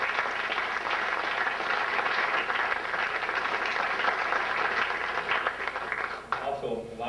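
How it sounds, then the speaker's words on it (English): An audience at a graduation assembly breaks into sustained applause, a dense crowd of clapping that runs steadily for several seconds before thinning out near the end. "How about a nice round of applause for those?"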